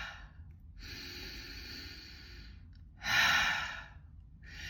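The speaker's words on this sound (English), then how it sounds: "focusing on like kind of a nice forceful exhale" A deliberate, forceful exhale through the mouth comes through as two breathy rushes, the second louder and stronger, with quieter inhales between them; close and clear, with no talking.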